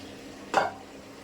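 Fried chicken pieces dropped into a sizzling, oil-coated spice paste in a pan for a country chicken curry, a single short burst of hiss and splatter over a quiet background.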